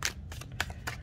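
Shuffling of a Llewellyn tarot deck with flexible cardstock, a run of crisp riffling bursts close to the microphone, with no one speaking.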